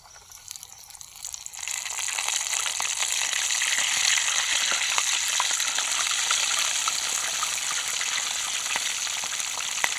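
Fish pieces dropped into hot oil fry with a loud, steady sizzle that swells after a quieter start and holds close and continuous, with faint crackles throughout and no voices.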